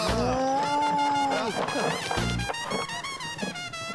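Cattle on a farm, cows and calves, moo repeatedly in long, loud calls close by, with some people talking faintly in the background.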